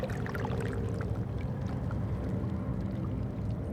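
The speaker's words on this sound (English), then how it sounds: "The water moves calmly through crevices." Calm, windless sea water slips and gurgles through crevices among large barnacle- and seaweed-covered rocks, a soft, continuous wash heard close and low.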